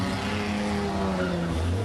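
A vintage racing car works through chicanes in second gear, its engine a continuous droning roar with steady tonal harmonics that shift slightly in pitch as it is held and then picks up speed.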